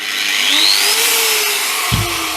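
Angle grinder of 1.4 kW with soft start, running up to speed with a rising whine that climbs gradually and then settles into a loud, steady motor roar, close and alone.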